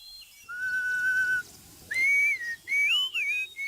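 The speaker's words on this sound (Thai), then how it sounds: "เสียงผิวปากของเด็กเลี้ยงแพะที่สอดผสานกันอย่างลงตัว บนเขาหิมาลัย" Clear, tuneful whistling from young goat herders in the Himalayas, with long held notes and sliding pitches, sometimes two whistles overlapping, loud and close, no talking.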